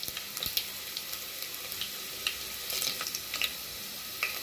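Broken dried red chillies crackle and sizzle in hot oil, a steady bed of frying hiss peppered with sharp irregular pops and spits throughout, with no talking.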